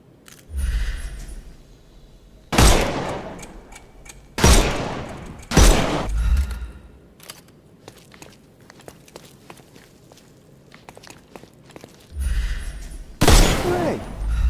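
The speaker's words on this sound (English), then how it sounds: "Shoot off their armor." Sharp bursts of gunfire in a detective video game, several loud cracking volleys spaced a second or two apart, separated by quieter stretches with faint ticking and footstep-like sounds.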